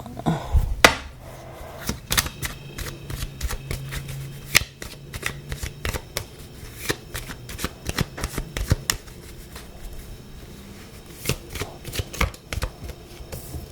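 Playing cards being shuffled in repeated crisp riffles and snaps throughout, fairly close and steady, with no talking, during a tarot-style card reading.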